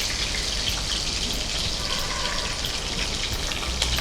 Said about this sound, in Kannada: ಹೊಡಿತಾ ಇದೆ ಸಾಸಿವೆ